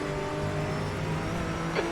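Race car engines in an endurance racing game, a steady loud droning hum as a car runs alongside on the left, with a brief higher-pitched blip near the end.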